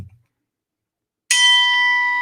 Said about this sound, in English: I can't move on until the chime, because the chime connotates, dictates, reminds us that it's time to move to the next thing